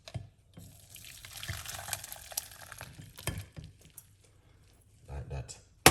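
A detox drink is poured out in splashing, trickling bursts of liquid, close and intermittent with brief pauses, a short gurgle near the end.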